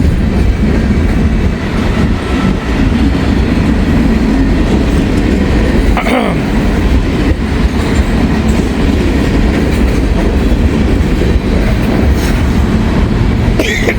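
A CSX freight train, M561, rolls past close and loud with a DPU locomotive in the consist, its wheels clattering steadily over rail joints throughout with no voices.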